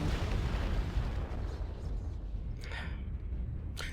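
A video game battle rumbles with continuous heavy explosions and booming gunfire, dense low thunder throughout, with a few sharper bursts near the end.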